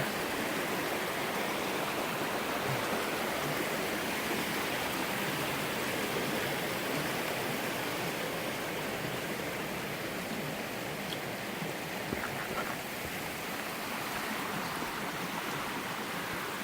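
Steady broadband rush of a clean mountain stream flowing beneath a small trail bridge on an Appalachian Trail section hike, close and continuous with no voices.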